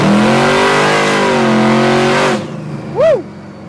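A blown, injected 1966 Chevelle V8 revs hard at half throttle, a loud, close, steady roar for about two seconds that cuts off sharply, followed by a brief rising-and-falling whine as it settles.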